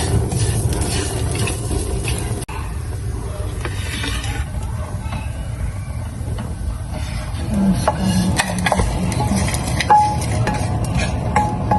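Cumin is stir-fried in a pan for a Hyderabadi baingan dish, giving a continuous soft sizzle with a scraping spatula and intermittent clicks and rubs, close up and fairly quiet.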